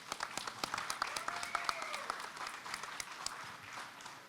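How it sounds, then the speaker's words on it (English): An audience at a hospitality industry conference panel claps in a moderate, fairly distant round of applause, with individual sharp claps standing out over the steady patter. "A round of applause, please."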